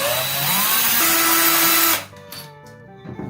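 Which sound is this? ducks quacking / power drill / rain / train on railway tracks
power drill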